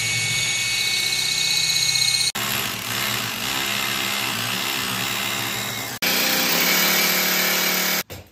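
A loud power saw whines steadily as it cuts a drain pipe during cabinet installation, pausing briefly twice before starting again, close by with no talking.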